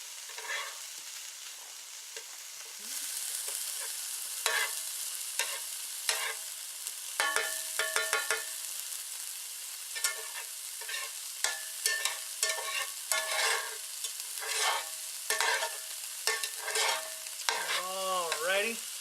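Onion fries in a skillet with a steady close sizzle, broken by frequent sharp scraping and clacking strokes as it is stirred, with no talking.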